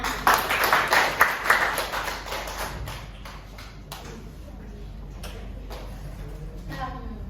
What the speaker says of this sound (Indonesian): beri aplaus pada Sonia